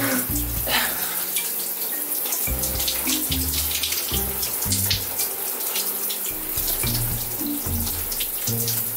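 Steady gush of tap water running into a bathroom sink during face washing, with shifting splashes as hands move through the stream, close and continuous with no clear talking.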